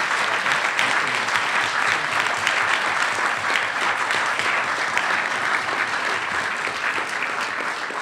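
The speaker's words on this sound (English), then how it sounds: "How about a round of applause for our guest speaker?" A large audience at the National Press Club applauds a guest speaker, the World Bank president, with dense, steady clapping that stays loud and even throughout.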